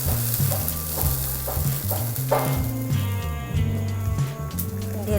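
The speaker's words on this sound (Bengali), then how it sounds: "এখন আমি ডালের ভিতরে এই বাগারের মিশ্রণটিকে ঢেলে দেব।" A hot tempering of fried garlic, onion and chilli is poured into dal for a fish-head muri ghonto. A strong, close sizzle with soft stirring runs steadily throughout.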